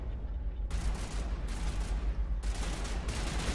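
Weapon fire in the video game Mass Effect rings out in rapid bursts of shots, with loud volleys broken by short gaps, dense and continuous during each burst.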